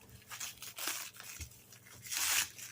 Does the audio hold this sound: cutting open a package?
yes